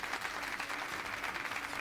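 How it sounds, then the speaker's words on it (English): Short applause sound effect signalling a stream donation during a World of Warships charity broadcast, a brief even burst of crowd clapping at moderate level. "Uh-oh, I'm hearing applause"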